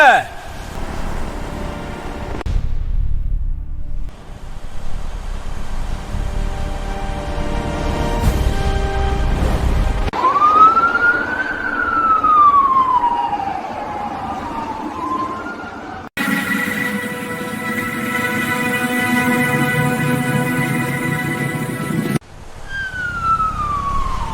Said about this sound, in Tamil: வந்திருக்கிறது 20 போலீஸ் வண்டி